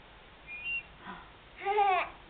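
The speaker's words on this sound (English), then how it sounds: "That's a whistle." A whistle gives a few short, faint toots around a child, with a quiet voice in between, close and in a home setting.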